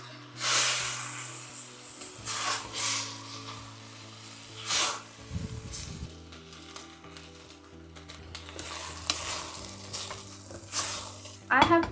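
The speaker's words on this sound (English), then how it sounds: "let's add rice and give it a gentle mix" Rice and fried tofu with onion and masala being gently stirred in a hot one-pot pulao, a loud continuous sizzle with repeated spoon scrapes and swishes up close, no voices.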